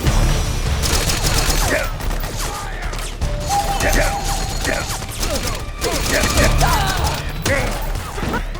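Soldiers firing guns in the video game Metal Gear Solid 4, rapid clattering bursts and mechanical clanks over a low rumble, loud and busy with brief voice fragments mixed in.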